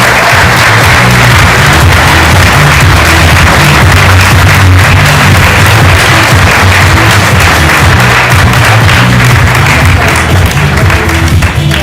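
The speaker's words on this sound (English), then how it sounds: "Big round of applause" Loud, dense audience applause fills a hall at the SciFest National Final 2022 science award ceremony, sustained steadily throughout with a low hum of crowd noise beneath.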